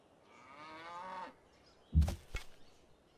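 In the Civilization 5 strategy game, cattle give one drawn-out low moo, followed by a pair of sharp interface clicks, all against a quiet background.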